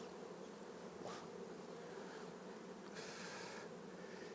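Honey bees buzzing steadily around an open beehive during a beekeeping session, a dense continuous drone close by with no talk.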